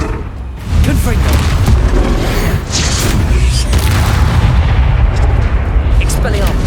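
A Confringo fire spell blasts in Hogwarts Legacy amid battle, with loud, repeated booming bursts and crackling impacts layered densely over several seconds.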